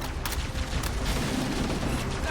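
Gunfire in Halo, a rapid burst of sharp shots over a noisy battlefield wash, fairly faint and dense.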